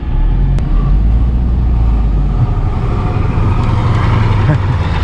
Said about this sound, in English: Oh, there's a truck coming.